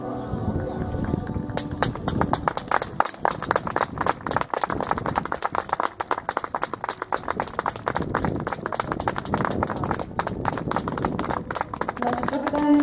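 Show-jumping horses at an equestrian event in Zduchovice, their hooves clip-clopping in a fast, steady rhythm close by, while an announcer speaks in Czech over a public address system.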